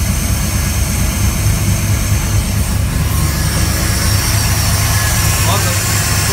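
A 383 V8 engine in a third-generation Camaro with Fitech Go EFI fuel injection runs at a loud, steady, low rumbling idle up close, while someone talks over it.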